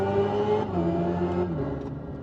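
Synthetic drive sound of a 650 hp Hyundai Ioniq 5 N electric car in evolution mode, a steady, layered electronic hum with stacked tones that shift slightly in pitch, heard close and alone.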